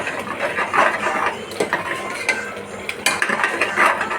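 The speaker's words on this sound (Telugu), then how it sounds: "ఆల్రెడీ గరిటతోనే మెదిపేస్తున్నాను" A ladle mashes cooked tamarind chutney dal in a pot, giving continuous scraping and knocking with a few sharper clacks, fairly close and steady, with no talking.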